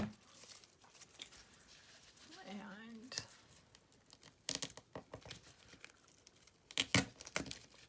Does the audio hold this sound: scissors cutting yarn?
yes